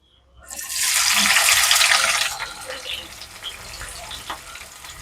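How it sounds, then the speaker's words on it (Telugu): Sliced onions drop into hot oil for an egg dum biryani, bursting into a loud broadband sizzle within the first second that holds for about two seconds, then settles into a quieter steady crackle. "ఇప్పుడు ఆయిల్ కాగిందండి ఆనియన్స్ వేసుకుందాం"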